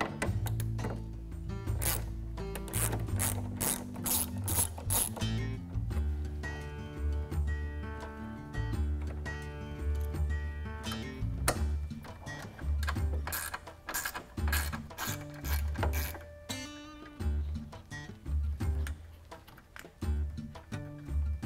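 Headlight screws being removed on a 2018-2020 Ford F-150, an 8mm and a 10mm fastener, a rapid clicking ratchet in repeated bursts with metallic ticks and handling noises, close and fairly quiet.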